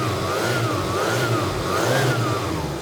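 A Mitsubishi Eclipse GSX with an upgraded turbo revs steadily from idle, its engine note rising and falling smoothly twice, loud and close, with no voices.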